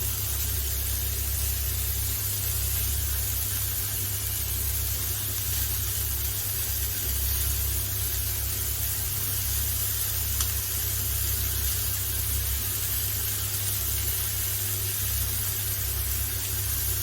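Boneless chicken frying in oil on a flat tawa gives a steady, even sizzle and hiss that runs unbroken and fairly loud, with no voices over it.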